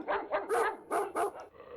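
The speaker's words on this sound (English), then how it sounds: "Dog." A dog gives a quick run of about five short barks and yips, close and moderately loud, with a faint whimpering quality and no talking.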